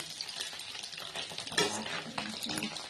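Eggs fry and get stirred in a pan, making a steady close sizzle with scraping stir strokes and a sharper clink near the middle, and no talking.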